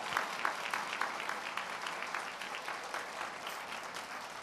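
Steady applause from an audience at a graduation ceremony, many hands clapping continuously at moderate volume with no talk over it.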